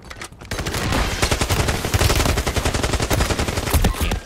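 Rapid bursts of automatic gunfire in the Rebirth Island battle royale game, loud and continuous after a brief quiet start, dense overlapping shots without pause.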